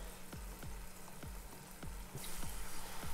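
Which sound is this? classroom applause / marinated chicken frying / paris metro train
marinated chicken frying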